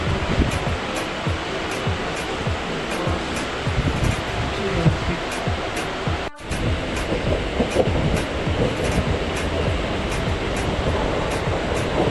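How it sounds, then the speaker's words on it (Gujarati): A train pulls into a station platform at Marine Lines, its steady loud rumble and rolling rail noise filling the scene throughout, with a brief dip midway and no talking. "આપણે આવ્યા અને ટ્રેને આવી તમે જોઈ શકો છો"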